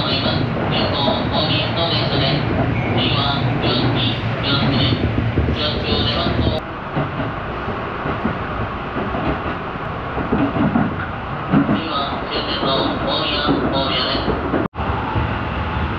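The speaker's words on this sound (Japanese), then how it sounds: "ホームには大宮方面の電車が入線してきました。" A Japanese express train bound for Omiya rolls into a station platform with a steady rumble and screech of wheels, while a chime plays in bursts and station announcements sound overhead.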